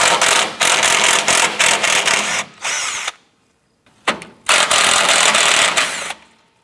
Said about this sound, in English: We're going to use our 10mm socket and remove the bolts holding our radiator support brackets.